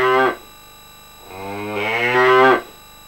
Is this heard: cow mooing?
yes